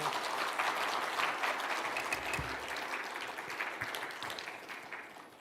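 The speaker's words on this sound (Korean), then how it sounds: "목사님 나오실 때 큰 박수로 환영해 주시기 바랍니다" A church congregation at a New Year revival service claps warmly to welcome the pastor, a dense, steady round of applause from many hands that gradually thins and softens toward the end, with no speech over it.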